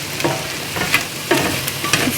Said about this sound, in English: Fry all of this off for around 5 minutes before adding the stock.